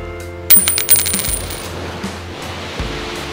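A small 2 cent coin clinks brightly as it is picked up and dropped during metal detecting on a beach, a few sharp metallic chimes over steady surf and wind noise.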